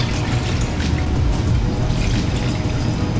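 Water dumped from a sauce cup into a cooking pot for Korean army base stew, a steady, full-bodied pour with low rumbling splashes lasting throughout, fairly close and continuous with no talk.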